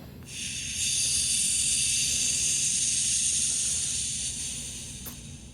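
A model locomotive's air brakes apply as it stops: a sustained airy hiss of releasing air rises, holds steadily for several seconds, then slowly tapers off over a low rumble.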